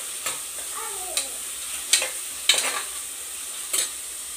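Onions and green chillies frying in a pan for chicken biryani, with a soft steady sizzle broken by a handful of sharp spoon taps and scrapes as they are stirred. No voices.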